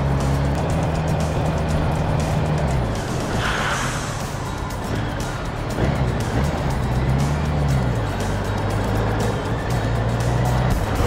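A BMW K100RS motorcycle engine while riding, loud and continuous, rising and falling in pitch with throttle and gear changes under strong wind rush, heard from the rider's position.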